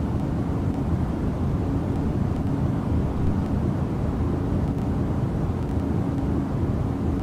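Steady, dense low rumble of an Airbus A330-900 airliner cabin in Microsoft Flight Simulator 2024, Azul Airlines livery, droning evenly throughout with no voices.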